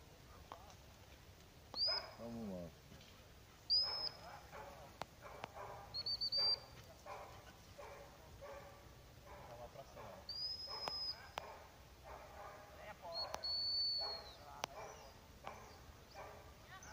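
Dogs barking and yelping intermittently during a hunt, several short bursts at middle distance, with people talking throughout.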